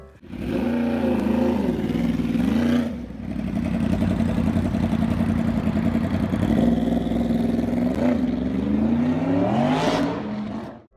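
A loud Yamaha R1 crossplane four-cylinder motorcycle engine revs repeatedly, its rough, raspy roar rising and dipping in several bursts before cutting off.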